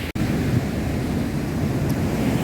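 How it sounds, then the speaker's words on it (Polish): Rough sea waves after a storm on the Italian coast roar continuously and loudly, mixed with gusty wind buffeting the microphone. "A morze dzisiaj jest cudowne, bardzo wzburzone."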